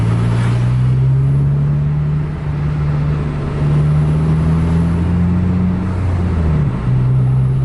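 A racing-style intercity bus driven hard at full throttle, its deep engine drone holding steady and loud with rising pitch sweeps as it pulls through the gears, close and continuous with no voices.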